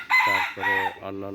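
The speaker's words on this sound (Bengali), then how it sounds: "এখানে এই যে মোরগের ডাক শুনতে পাচ্ছেন" A farmyard rooster crows loudly and nearby, three drawn-out harmonic calls in a row, with a few words spoken faintly at the start.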